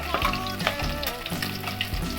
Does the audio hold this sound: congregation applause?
no